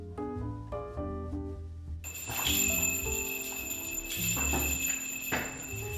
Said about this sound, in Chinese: 给大家听一下这个清脆的铃铛声，是不是很疗愈？